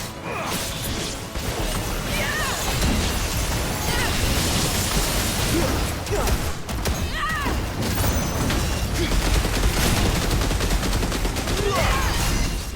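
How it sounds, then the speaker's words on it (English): Rapid-fire bursts from Leviathan's Deluge ability in Final Fantasy 16: The Rising Tide crackle and pop almost without pause, a loud, dense barrage of gunfire-like blasts and crashes lasting throughout. "Deluge! It is minigun mode!"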